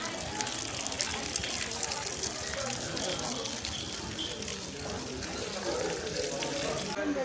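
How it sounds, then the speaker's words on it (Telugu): Water pours steadily at Akasha Ganga in Tirumala, a continuous close splashing rush that fills the whole stretch without pause. "వాటర్ పడుతుంది."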